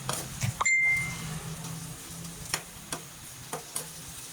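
Squid sautéed with shrimp sizzles softly in a pan, a low steady frying hiss broken by a few sharp clicks and light taps from stirring, with no talking.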